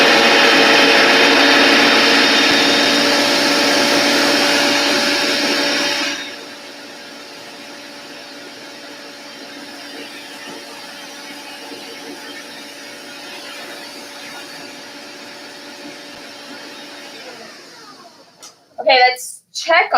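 A countertop blender whirs loudly while mixing chocolate tart filling with cacao powder, then drops to a lower, steadier hum after a few seconds; near the end the motor winds down and a few clicks and handling knocks follow.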